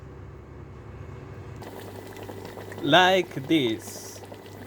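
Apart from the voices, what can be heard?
dough frying in very hot oil in a pot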